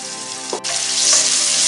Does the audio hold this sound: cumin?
yes